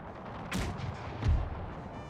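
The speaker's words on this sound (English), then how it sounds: "I'm aiming both cannons there so that it bounces through." Two cannon shots boom across a Napoleon: Total War battlefield, the first sharp and the second heavier and lower, spaced under a second apart over a steady background of battle ambience.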